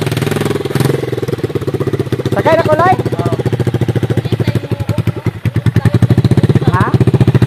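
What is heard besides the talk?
motorcycle engine running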